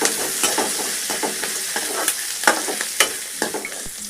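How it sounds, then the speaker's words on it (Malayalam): Onion, green chili, dried red chili, curry leaves and garlic sauté in a pan with mustard seeds, a steady oily sizzle broken by repeated scraping stirs of a spoon, close and without talk. "ഉള്ളിയും പച്ചമുളകും വറ്റൽമുളകും കറിവേപ്പിലയും വെളുത്തുള്ളിയും എല്ലാം നല്ലപോലെ വഴന്ന് വന്നിട്ടുണ്ട്."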